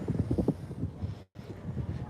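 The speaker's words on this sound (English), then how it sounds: "It's windy." Wind buffets a microphone outdoors in Vietnam around 6 a.m., giving a steady low rumble that gusts unevenly for about two seconds, with a momentary dropout near the middle.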